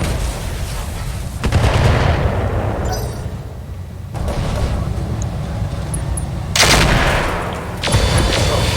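Mech weapons firing in a modded Battletech game, heavy booming salvos and crackling impacts in a few loud bursts separated by quieter rumbling lulls, with no voices.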